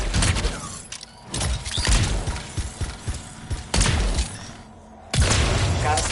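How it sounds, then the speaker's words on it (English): Canisters blow up in the Anthem video game as a string of loud, sharp booms and thuds, several bursts in quick succession with crackling debris between them, filling the whole clip. "It'll be a contained explosion."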